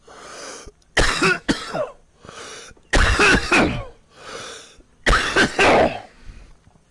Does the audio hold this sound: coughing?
yes